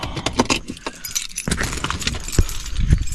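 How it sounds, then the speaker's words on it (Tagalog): House keys jangle loudly and close up in short metallic bursts, repeated shakes over a few seconds, outdoors at night near a car by a fishing spot on the Central Coast. "Susi ko ng bahay."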